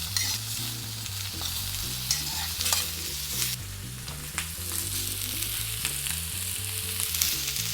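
A steak sears in a hot pan alongside onion and asparagus, giving a steady close sizzle with scraping and stirring noises throughout and no talk.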